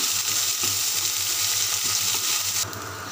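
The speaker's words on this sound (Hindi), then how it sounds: "इसमें थोड़ा डाल देंगे पंचफोटन प्याज, जैसे भून लेंगे।" Panch phoron and onions fry for a village-style mustard fish curry, a loud, even sizzle with soft stirring, easing slightly in the final half second; no speech.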